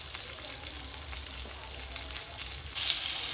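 Bangda (mackerel) fish sizzles steadily in a frying pan, a continuous close hiss with a low rumble beneath that grows slightly louder and brighter near the end.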